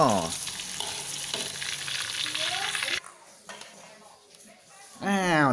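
Sun-dried beef fries in hot oil in a pan, a loud continuous sizzle with stirring scrapes, dropping quieter midway before surging again, and a voice talking over parts of it.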